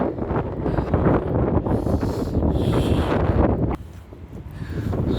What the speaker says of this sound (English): Wind is not favoring.